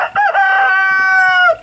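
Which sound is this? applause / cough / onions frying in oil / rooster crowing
rooster crowing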